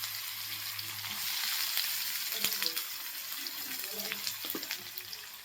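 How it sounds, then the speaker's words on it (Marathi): Onion fries in hot oil with asafoetida and curry leaves, giving a soft, steady sizzle at low volume, broken by a few light stirring clicks and scrapes. "कांदा भाजतोय आपला"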